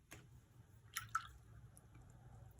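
Water is squeezed from a paintbrush or sponge while painting: two brief, faint wet squishes close together, with a soft steady hiss underneath.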